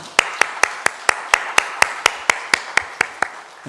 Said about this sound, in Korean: 하나님께 영광 박수 올려드리겠습니다